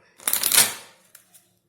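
A quick riffle shuffle of playing cards, a dense fluttering burst under a second long, followed by two soft clicks as the deck settles.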